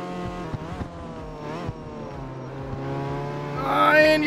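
A car engine held at full throttle during a race in the CarX Street driving game, a steady harmonic drone rising in pitch as it revs, with brief gear-shift dips and a loud climb at the end.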